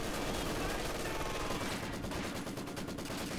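Maxim machine guns in the strategy game Company of Heroes 2, a sustained rattle of rapid gunfire in a battle, dense and continuous, heard at moderate distance with other combat noise around.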